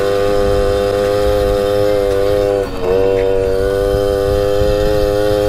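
A small Suzuki JR50 motorcycle engine runs close and loud, its buzzing harmonic drone holding steady with a brief dip and revving back up midway.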